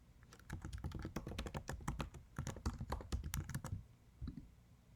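Someone types quickly on a computer keyboard, a close burst of rapid clicking keystrokes that pauses briefly near the end before a final couple of taps.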